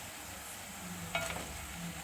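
Crisp butter chakli fry in oil in a pan, giving a soft, steady bubbling sizzle up close with a brief scrape partway through and no voices.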